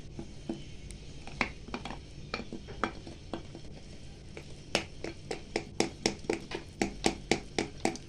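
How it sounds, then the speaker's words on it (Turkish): A spoon stirs semolina cake batter in a bowl, giving quiet scraping and clinking taps that quicken into a steady rhythm of sharp knocks toward the end. "Hemen karıştıralım."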